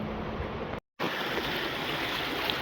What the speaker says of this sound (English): here's a little choppy stretch of the water